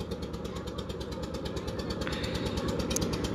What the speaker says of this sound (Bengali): এটাকে বলে পারাপার খেয়া বোট।